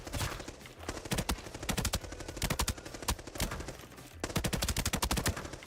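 Rapid bursts of automatic gunfire from a video game weapon, close and loud, with long rattling strings broken by brief pauses.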